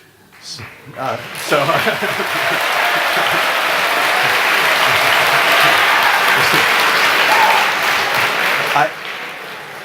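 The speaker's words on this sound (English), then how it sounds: "I didn't expect riotous applause" Audience applause at a talk breaks out after a short opening, swells into a loud, steady ovation from a large crowd that fills most of the stretch, then stops abruptly near the end.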